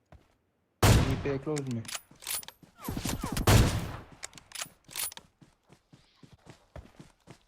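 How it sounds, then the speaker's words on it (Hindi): AUG assault rifle fire in PUBG Mobile, with sharp bursts of shots and mechanical clatter while a player talks over the action in game. "ऑक्स चला रहा है कोई इधर"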